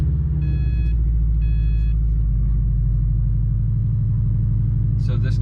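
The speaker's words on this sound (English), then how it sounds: "I'm gonna start this car for you guys as well" A Subaru STI engine idles with a deep, steady rumble, punctuated by a few electronic chime beeps early on and a brief higher squeal near the end.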